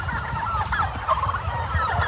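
Antibiotic-free farm turkeys gobble in a dense, continuous chorus of warbling calls from a flock nearby, loud and unbroken, with no speech.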